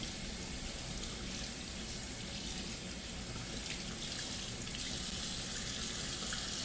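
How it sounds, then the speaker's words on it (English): Steady running tap water pours into a sink as a dental brush is rinsed beneath it, a constant close hiss and splash with no breaks and no voices. "So make sure that you rinse your dental brush so that you can use it later."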